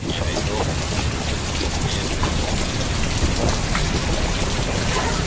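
Heavy rain pours down in a dense, unbroken roar of drops striking surfaces nearby, loud and steady throughout.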